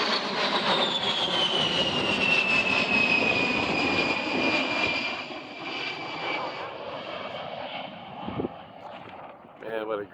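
An A-10 Thunderbolt II jet makes a final demonstration pass at the Stuart Air Show. It gives a loud, rushing engine roar with a high whine that slowly bends in pitch as it passes, fading gradually, with spectators talking over it.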